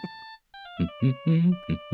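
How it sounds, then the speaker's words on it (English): A phone rings in the Ace Attorney: Justice For All video game, a steady electronic tone held under a voice talking in short bursts. "All of a sudden, the phone began to ring."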